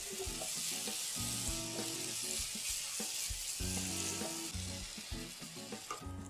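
Chopped green chilies cooking in masala in a hot pan, frying steadily with a dense, continuous sizzle and occasional stirring scrapes throughout, close and fairly loud with no talking.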